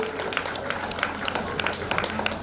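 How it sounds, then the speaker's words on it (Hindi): Audience clapping at a religious gathering in Muradnagar, loud and continuous, with many hands patting out irregular claps while a voice talks over it. "एक और जोरदार तालियां अमित भैया के लिए।"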